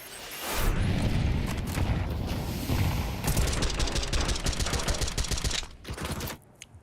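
Rapid automatic gunfire sprays in a Counter-Strike match at a professional esports event, dense repeated shots in quick bursts that run for several seconds and then cut off.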